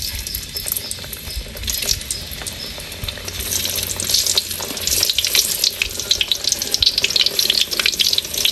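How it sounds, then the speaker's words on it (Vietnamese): Eggplant frying in plenty of hot oil in a pan, a continuous bright sizzle and crackle that grows louder and denser, with no talking. "Dầu á cũng nóng rồi, giờ em cho cà vô em chiên luôn."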